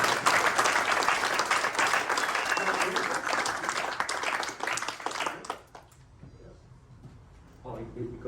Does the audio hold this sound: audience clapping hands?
yes